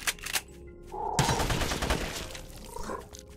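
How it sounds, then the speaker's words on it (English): Sustained automatic assault rifle fire in the video game GRAV, a dense, loud burst lasting a couple of seconds after a few scattered shots. "Let's get the assault rifle."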